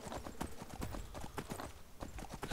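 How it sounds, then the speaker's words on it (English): Horse hooves clip-clopping in a video game, a brisk quick rhythm of sharp hoof strikes from a fast-moving horse, fairly quiet and steady with no voices. "It's a nice fast horse."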